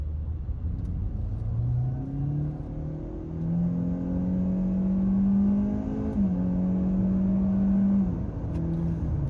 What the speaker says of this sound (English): you can hear that CVT transmission spooling up and winding up and whining